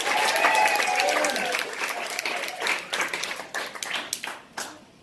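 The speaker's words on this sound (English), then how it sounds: "let's give it up again for Sheila" A comedy club audience claps for a comedian after her standup set, loud applause that thins into scattered individual claps and fades out, with voices over it.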